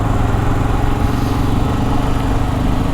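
Engines of a BMW G 310 GS and a Royal Enfield Himalayan motorcycle on a night ride, a loud, steady droning rumble with a pulsing low tone, close and continuous without talk.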